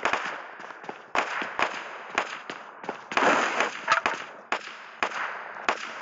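Pistol shots in BGMI crack out one at a time in an irregular string of about a dozen sharp reports, each fairly close and fading quickly, with no voices.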